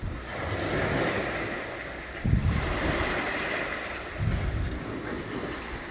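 Ocean surf on a black-sand beach on Catalina Island, a continuous roar of wind-blown water with two heavier wave surges rolling in, moderately loud and unaccompanied by talk.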